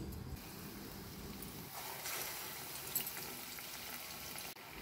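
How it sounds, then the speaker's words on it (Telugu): Dahi vada batter deep fries in hot oil, making a soft, steady sizzling hiss that runs unbroken and fairly faint throughout. "వడలు డీప్ ఫ్రై చేసుకునేటప్పుడు బాగా ఎర్రగా ఫ్రై చేయవలసిన అవసరం లేదండి."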